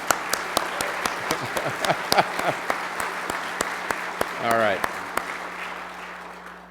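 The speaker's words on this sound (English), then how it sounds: "let's clap as though he can hear us" Audience at an annual meeting breaks into sustained applause filling the room, with a voice speaking briefly over the clapping near the end.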